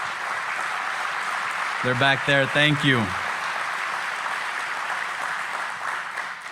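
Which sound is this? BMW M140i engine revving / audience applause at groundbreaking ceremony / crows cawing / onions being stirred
audience applause at groundbreaking ceremony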